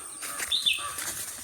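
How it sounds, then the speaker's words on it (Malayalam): A couple of brief, high bird chirps rise over a soft, steady outdoor hiss in a forest, faint and somewhat distant. "ഫുള്ള് കിളികൾ ശബ്ദം മാത്രട്ടോ"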